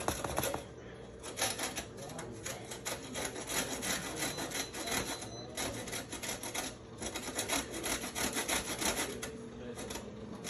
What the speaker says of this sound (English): I'm just going to scrape off the rind.